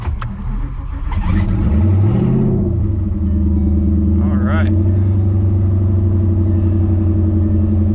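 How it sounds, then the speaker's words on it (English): A Ford Coyote twin-turbo V8 running on E85 cold-starts after sitting about a week, cranking briefly then catching with a loud rev before dropping into a deep, steady, lumpy idle. "Not too bad for an E85 cold start after not being started for a couple of, probably a week or so"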